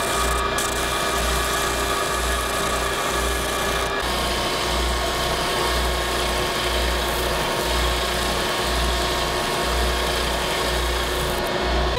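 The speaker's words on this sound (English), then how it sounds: "so I'm gonna clean that up with the sander" An electric sander works steadily over the burnt edges of a hardwood sign, giving a continuous loud rasping whir with a rhythmic low pulsing as it moves along the wood.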